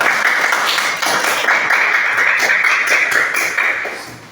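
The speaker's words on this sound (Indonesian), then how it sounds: "Ya, tepuk tangan buat Akmal" Students in a classroom applaud a classmate, a dense, steady burst of many hands clapping close by that runs for several seconds and thins slightly toward the end.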